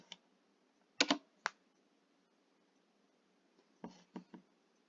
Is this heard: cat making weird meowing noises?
no